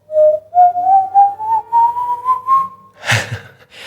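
A person whistles an imitation of the El Silbon's eerie whistle: a rising series of short, clear notes climbing step by step like a scale, loud and close, ending in a breathy burst.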